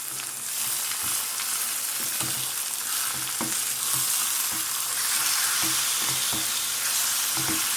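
Marinated chicken tipped into a pan of fried onions for an Andhra-style chicken fry, giving a steady close sizzle with intermittent scraping stir strokes throughout, no voices.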